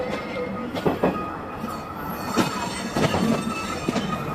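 Sagardari Express train rolling toward Rajshahi, with a steady rumble of cars on the rails and repeated sharp clacks and brief metallic squeals spaced every second or so, heard from on board.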